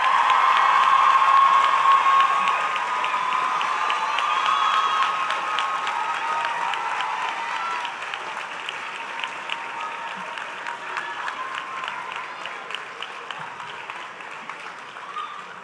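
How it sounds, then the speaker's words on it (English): A large crowd at a medical graduation ceremony applauds, loud at first and gradually thinning into scattered, sharper claps that taper off over about fifteen seconds. "You may clap."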